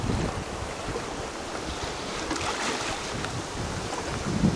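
Steady wind rushing across a sailing boat under sail, with water washing and splashing against the hull throughout, no voices.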